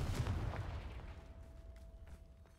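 A Confringo blasting spell goes off in Hogwarts Legacy near a Thestral nest, a single low booming burst at the start that rolls away into a quieter, rumbling ambience with faint tonal hum.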